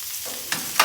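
Blackened shrimp sizzle on a Monument grill, a steady close hiss of frying with a couple of brief scraping stirs near the end.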